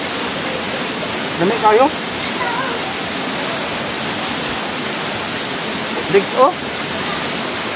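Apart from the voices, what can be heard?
waterfall and stream water rushing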